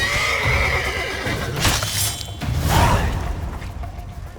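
Horses in The Witcher 3 neigh and whinny loudly and close by, two or three shrill calls over a dense bed of hoof clatter and game ambience, with no talking.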